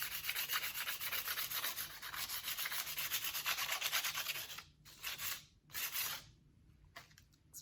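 Wooden wand being sanded by hand, a steady close rasping rub that runs continuously for several seconds before breaking into a few short separate strokes with brief pauses.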